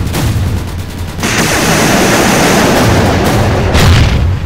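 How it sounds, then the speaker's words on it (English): Loud green laser weapon fire in the robot combat game World of Robots, with a dense, roaring barrage of blasts and booms that swells and holds steady, close and overwhelming, with no talk over it. "There's green lasers."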